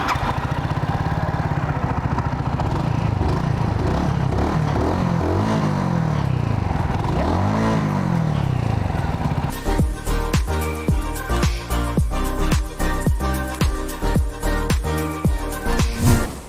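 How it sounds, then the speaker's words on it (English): A Mutt GT-SS 250 motorcycle with a 250cc four-stroke single-cylinder Suzuki GN engine, idling and revving with rising and falling pulses, then a choppy series of sharp throttle blips and pops close by. "Powering this bike is a 250cc 4-stroke single-cylinder Suzuki GN engine that produces 21 horsepower and 18 Nm of torque"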